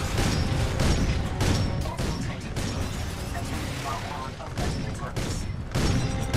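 Rapid gunfire in the video game Titanfall 2 during a co-op Frontier Defense match, loud continuous bursts layered with explosions, booms and mechanical clanking, with voices talking over the battle.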